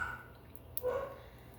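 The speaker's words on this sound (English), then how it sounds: "I don't like the barks" A single dog bark or yip rings out briefly in the middle, fairly distant, against a quiet background.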